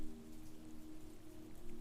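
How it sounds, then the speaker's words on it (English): Steady rain drums on roof tiles through the night, a dense, even patter of drops holding at a constant moderate level with no voices. "The rain continued through the dark hours, drumming on the roof tiles,"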